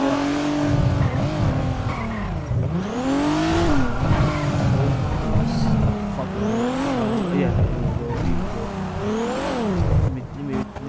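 Car being driven hard, with the engine revving up and down in repeated sweeping surges and tires squealing close by, under dense continuous noise.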